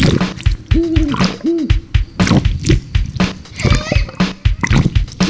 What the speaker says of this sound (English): If you listen close, that's the great, it's the great horned owl. That's the female.